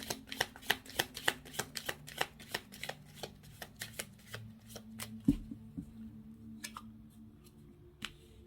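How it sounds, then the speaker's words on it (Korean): Tarot cards are shuffled and drawn, a quick run of crisp riffling flicks and card snaps that slows into a few scattered taps and slides, close and quiet, with no talking. "먼저 여러분들을 위한 힌트 카드 3장 뽑아볼게요."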